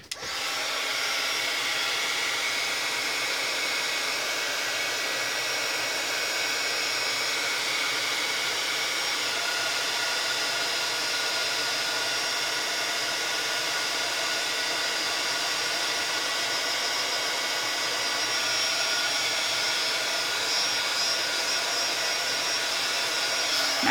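Heat tool melting embossing powder on stamped paper: a loud, even blower roar held steady for over twenty seconds, close by and uninterrupted, with no talking.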